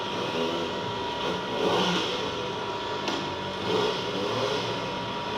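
A Kawasaki Ninja ZX-4RR motorcycle revs hard on a dyno run, its high-pitched engine whine holding steady and loud with slight swells in pitch.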